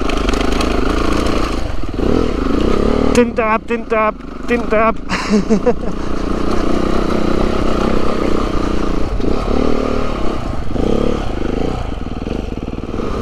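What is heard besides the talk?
trail motorcycle riding over logs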